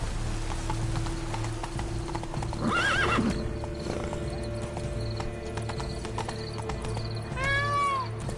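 A horse in The Witcher 3 clip-clops along at a steady gait under wind and game ambience, giving a loud whinny midway and another shorter neigh near the end.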